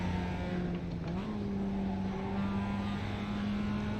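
A race car engine droning steadily on a cool-down lap at Mid-Ohio in the iRacing sim, a continuous loud tone that steps up slightly in pitch partway through, with no talking.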